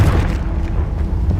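A Confringo fire spell explodes in Hogwarts Legacy, giving a loud, dense, rumbling low boom that rolls on without a break.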